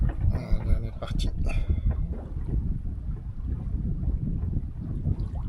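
Wind gusts buffet the microphone aboard a sailboat in about 10 knots of breeze on flat water, a low rumbling whoosh with water sounds, while someone talks over it.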